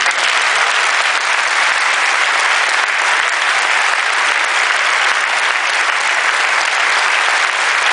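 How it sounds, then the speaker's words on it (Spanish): Strong audience applause fills a hall during a speech event in Madrid, a dense, steady wash of many hands clapping at full loudness for nearly eight seconds, with no voices over it. "dedicar un fuerte aplauso para ellos"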